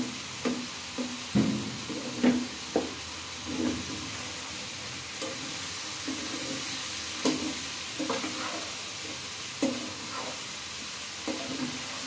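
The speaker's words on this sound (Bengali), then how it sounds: "মশলাটা আমি একটু কষে দিলাম।" Spices frying and being stirred in a pan for a Bangladeshi fish curry with fish heads, bottle gourd and cauliflower: a soft steady sizzle under repeated scraping stirs at irregular intervals, fairly quiet and close, with no talk.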